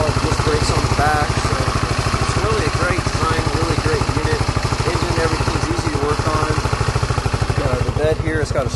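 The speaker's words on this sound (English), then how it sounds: "The exhaust is pretty quiet, as you've heard." A small 150cc MXR utility vehicle engine idles with a steady, rapid putter and quiet exhaust, close and fairly loud, while a person talks over it.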